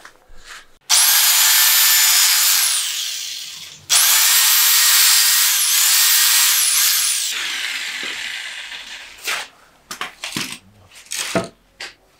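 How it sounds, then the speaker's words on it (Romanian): A power saw cuts wooden slats for a terrace in two long, loud, whining passes, each ending as the blade winds down, followed by scattered knocks and clatter of wood. "o să tăiem vreo 4 bucăți de jos, la aceeași măsură"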